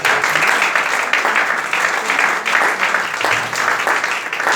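A church congregation bursts into sustained applause during a French-language sermon, dense clapping from a large crowd filling the room for several seconds with no pause.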